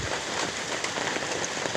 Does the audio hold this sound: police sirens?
no